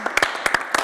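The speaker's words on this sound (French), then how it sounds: "J'applaudis alors, parce que c'est vraiment réussi" A few sharp hand claps ring out in a short, uneven burst, close and distinct, with a faint voice underneath.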